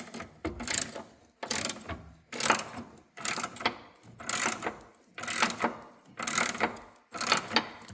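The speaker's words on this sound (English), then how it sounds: "the next thing I'm going to do is take this bar off. This also requires a 1/2 inch socket." A ratchet driving a 1/2 inch socket loosens the bolts on a bar near the battery of a 2021 Chevrolet Tahoe. Eight close, steady clicking bursts come at a regular rhythm, about one each second, with no talk.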